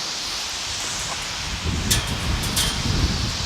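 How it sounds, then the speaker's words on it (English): Strong wind blows outdoors in a loud steady roar of broadband rush, with gusts and rustling building toward the end, close to the microphone with no speech. "The wind is ripping."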